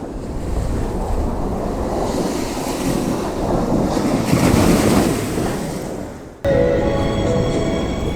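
Sea waves break on the shore at Blackpool in a loud, continuous rushing surf with heavy wind buffeting the microphone, and the sound shifts abruptly near the end.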